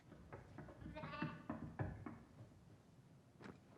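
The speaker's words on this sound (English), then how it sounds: "Is that a goat?" A goat bleats in a TV comedy scene, several wavering cries over a busy background with voices talking around it.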